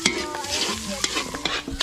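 Garlic and onion sautéing for adobo in a home kitchen pan, with a steady sizzle and sharp scraping stirs across the whole short stretch, close and fairly loud, no voices.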